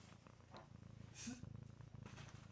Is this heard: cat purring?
yes